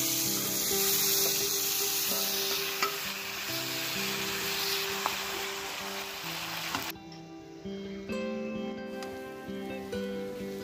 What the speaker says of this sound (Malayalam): ചിക്കൻ പൊരിച്ച എണ്ണ തന്നെ കേട്ടോ ഒപ്പം പൊട്ടാറ്റോ ഫ്രൈ ചെയ്യുന്നത്.